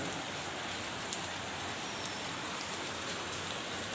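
Heavy rain falls in Ernakulam as a dense, steady hiss of drops on surfaces, loud and unbroken throughout, with no voices.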